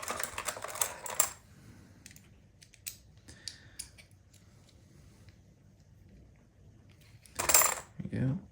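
A Falcam F38 to F22 quick-release camera mount is tightened, with bursts of sharp metallic clicks and ratcheting at the start and end, a few scattered small taps between, and quiet handling noise in the gaps.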